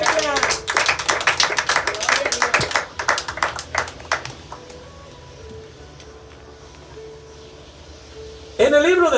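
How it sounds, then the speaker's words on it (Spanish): A church congregation claps along during a Spanish-language service, with quick, rhythmic handclaps for about four seconds that then fade out under voices and a low room murmur. "Dele palmas al Señor"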